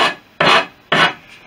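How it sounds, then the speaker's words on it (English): A metal file rasping along the edge of a window frame on a Sherwood Kub aircraft, three loud, close, scraping strokes in a steady rhythm with no voices. "all I do is I go along and with a file, not getting it too low, so it touches the paintwork"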